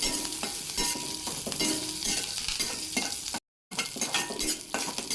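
Dried red chillies and curry leaves fry in hot oil for bisi bele bath. A dense, continuous sizzle is close up, with stirring scrapes and one brief dropout.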